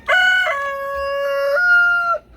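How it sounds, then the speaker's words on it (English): A gold-laced Cochin rooster crows once up close, a loud, clear, drawn-out call in several stepped segments lasting about two seconds, with no other sound around it. "I don't need 4 gold-laced Cochin roosters when I have no Cochin hens to breed them to."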